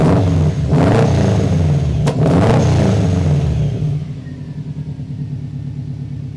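A Subaru Impreza GD STi engine is revved twice in sharp, loud bursts over a rumbling idle, then settles back to a lower, loping idle.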